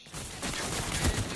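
Brief burst of gunfire in a video game match: a short, loud run of shots over a noisy, busy background.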